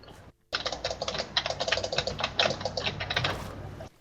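Rapid clicking on a computer keyboard and mouse during a Minecraft session, a dense run of quick, close, fairly loud taps that starts abruptly after a brief pause and continues steadily without speech.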